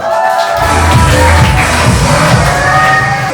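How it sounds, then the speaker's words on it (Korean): Applause from a party audience at a guesthouse game night, a dense, continuous wash of clapping and crowd noise filling the whole stretch without pause. "박수 한번 주세요."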